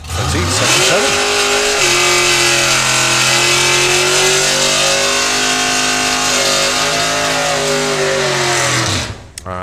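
Hot rod drag car with wheelie bars launching hard down a drag strip, a loud, sustained engine roar that climbs through a gear change and holds for several seconds, then cuts off abruptly near the end.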